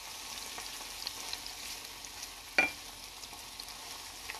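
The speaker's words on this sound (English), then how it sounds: "Just saute it up a little bit." Breakfast food sautés in a pan with a faint, steady sizzle and frying crackle, broken by a single short clink of a utensil midway, with no voices.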